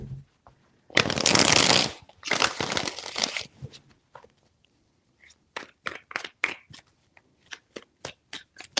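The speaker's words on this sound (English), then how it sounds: "Three shuffles." Tarot cards are shuffled by hand: a loud dense riffle, a second shorter burst, then a run of crisp separate taps and snaps as the deck is cut and squared.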